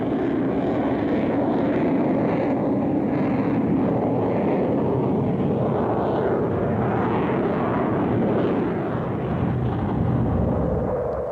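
A Panavia Tornado jet flies very low over terrain, its broad, continuous engine roar loud and steady throughout with slight surges in intensity.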